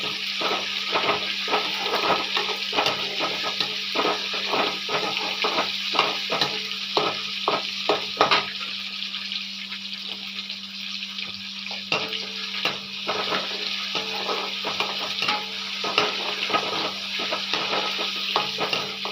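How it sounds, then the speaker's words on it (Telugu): Tomatoes fry in a pan with a loud, continuous sizzle broken by rapid clicks and scraping stirs, close up, with a steady background hum and no talk. "టమోటాలు వేగుతున్నాయి."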